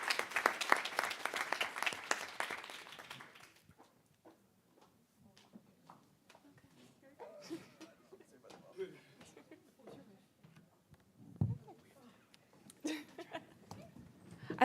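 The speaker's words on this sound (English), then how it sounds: "If we could just give a warm round of applause for our panelists." Audience applause for the panelists at a youth internet governance forum, a loud burst of clapping for the first few seconds that quickly dies away into quieter room noise, scattered movement and a few faint sounds.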